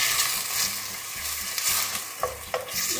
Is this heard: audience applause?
no